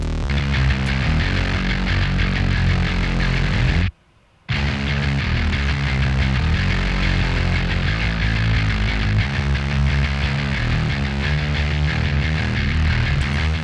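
A Moog synthesizer and a bass play together in a loud, dense, continuous mix of sustained harmonic tones, broken by a short silent gap early on.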